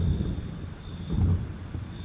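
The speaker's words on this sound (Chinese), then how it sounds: "打雷了哎。" Thunder rumbles low and loud over steady rain pattering on surfaces in an RPG video game, a short continuous storm bed with no speech.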